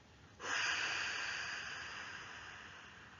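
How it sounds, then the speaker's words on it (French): A single long, forceful breath blown out through the mouth during a relaxation exercise starts abruptly and trails off into a soft, steady hiss. "Soufflez fort par la bouche pour chasser les dernières tensions accumulées dans notre corps"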